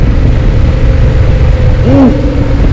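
A sport motorcycle runs through a slalom exam exercise with a steady, loud, close engine drone and a brief rise in revs near the end as it speeds up.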